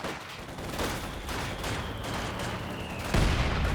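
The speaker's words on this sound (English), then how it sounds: "Oh, what a hit from the heavy mortar." Heavy mortar fire in Company of Heroes 2, a dense, loud barrage of booming blasts and gunfire rumbling continuously, with a sharper impact near the end.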